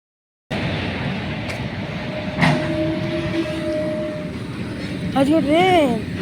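A passing train rumbles steadily through an outdoor village setting, with a long horn-like tone in the middle and rising, wavering tones near the end, continuous and moderately loud throughout.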